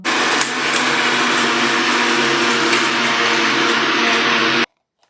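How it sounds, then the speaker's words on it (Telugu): A kitchen mixer grinder whirs loudly as it blends onion and tamarind chutney, a steady high-pitched motor drone running continuously before stopping abruptly near the end, followed by brief silence. "ఇప్పుడు మనం దీన్ని మిక్సీ పట్టుకుందాం"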